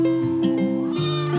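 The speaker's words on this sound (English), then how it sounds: "Manju Aji's kitten. She was terrified of the fire and the water" A terrified kitten lets out a few loud, close, high meows in quick succession, heard alone.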